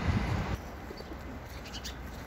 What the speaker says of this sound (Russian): Вот даже голубей кормят.